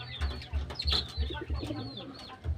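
Pigeons in a loft coo nearby in low, rhythmic, repeated pulses. Soft rustling and faint higher calls sound over the cooing.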